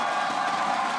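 Crowd cheering and roaring at an esports match between Valiant and Mayhem, a dense, steady wash of many voices held at an even level throughout the brief moment.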